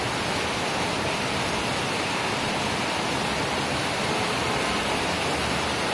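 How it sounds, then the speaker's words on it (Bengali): Heavy rain pours outside as a dense, constant hiss that fills the whole stretch evenly, steady and fairly loud with no breaks or voices. "দেখো কত জোরে বৃষ্টি হচ্ছে।"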